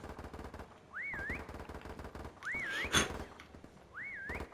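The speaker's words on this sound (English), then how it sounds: "Stop whistling!" Three rising-and-falling whistled phrases repeat at steady intervals over constant gunfire and machine-gun bursts in a Call of Duty: Modern Warfare Remastered prop hunt match set in China Town, with a louder blast near the middle.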